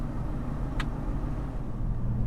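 Jeep Gladiator engine pulling a Geo Pro camper while accelerating gently, a steady low rumble with road noise filling the whole stretch, no sharp revving, and a single brief high chirp partway through.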